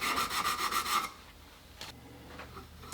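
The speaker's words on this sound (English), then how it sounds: "we're going to use a combination of the stick and my fingers as we polish this up" A polishing stick and fingertips rubbing a metal piece during metal polishing and color restoration, heard as a brief run of quick, rhythmic rasping strokes up close that fades into quiet with a few faint taps and no speech.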